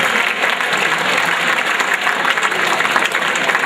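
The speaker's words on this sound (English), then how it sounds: "Let's give a round of applause to our perfect attendance students." A school assembly audience applauds perfect attendance students with sustained, loud, even clapping from many hands that continues throughout.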